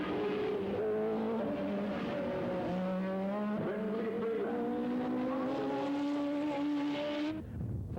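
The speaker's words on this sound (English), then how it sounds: "by the whine of Formula engines that can be heard from Anjou to NDG" Formula One race cars whine at a Grand Prix, several high engine tones rising and falling together as they pass, loud and sustained, with a brief dip at the end.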